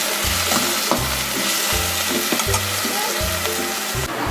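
Chopped onions frying in a pan on high heat produce a loud, steady sizzle, broken by rhythmic stirring strokes that repeat about every half second.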